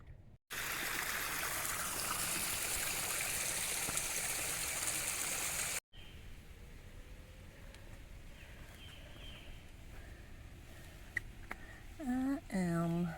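Water runoff trickles along the Haigmill Lake loop trail in a steady rushing wash, loud at first and then fainter, with a few bird chirps near the end.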